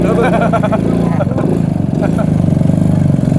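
The small engine of the Dirty Brommer, a motorized picnic table moped, chugs in a rapid pulsing idle close by while people talk loudly over it.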